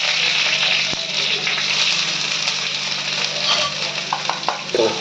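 Onion sautéing with dried red chillies and curry leaves in hot oil, a loud, continuous close-up sizzle with faint stirring clicks throughout.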